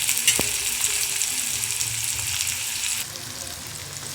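Green chillies frying in a pan for upma give a steady, close sizzle throughout, with a brief clink early on.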